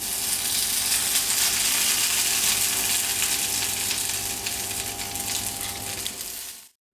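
Tuna galettes fry in a pan with a steady, fairly soft sizzle and crackle and a faint hum underneath. The sound continues unbroken and cuts off abruptly near the end, with no talk.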